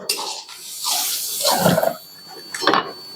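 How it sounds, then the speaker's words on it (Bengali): Boiled jackfruit is poured into a cooking pan with a wet, splashing slosh that comes in a few uneven surges over a few seconds, close and fairly loud, with no talking. "এবার আমি এর মধ্যে এই সিদ্ধটা ঢেলে দিলাম"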